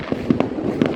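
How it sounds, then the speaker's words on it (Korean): New Year fireworks in the Philippines burst in a few sharp pops spread irregularly through a brief moment, heard at a distance over a steady crowd murmur. "불꽃놀이입니다."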